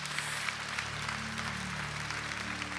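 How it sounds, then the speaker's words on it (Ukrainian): Steady applause from a church congregation honoring the Lord, a continuous wash of clapping at moderate level with a low sustained tone underneath, no voices. "Давайте оплески нашому Господу."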